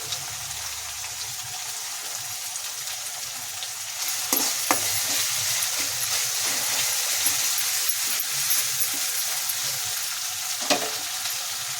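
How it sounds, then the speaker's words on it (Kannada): Chopped tomatoes fry steadily in a hot pan for vangi bath, a continuous sizzle with occasional scraping stir strokes and a sharper clink near the end, no talking. "tomato cut ಮಾಡ್ಕೊಂಡಿರೋಂಥ ಟೊಮ್ಯಾಟೊನ ಸೇರಿಸ್ಕೊಳ್ಳಿ"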